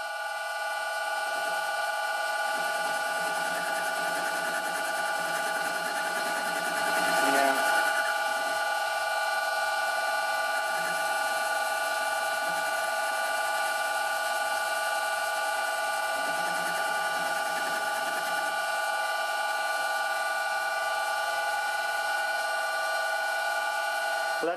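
An old Karger lathe runs steadily at 600 RPM, giving a constant tonal machine hum with a brief louder swell partway through, heard alone without talk.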